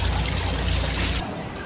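An afternoon downpour in Tokyo hisses loudly and steadily like pouring water, then drops abruptly to a softer, duller patter.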